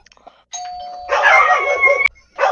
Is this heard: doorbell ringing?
yes